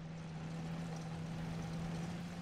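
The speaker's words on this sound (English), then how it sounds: "ZSU-37 has got a mean engine." Engine of a ZSU-37 light vehicle in the Men of War Assault Squad game, a steady low droning rumble with a constant hum, continuous and even throughout with no talk.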